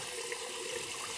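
Tap water running steadily during a wet shave with shaving soap, a constant hiss and splash close by, alone without talk.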